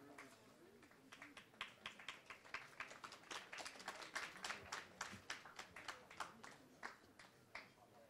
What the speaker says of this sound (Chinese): 让我们再次用掌声献给代表，献给科学家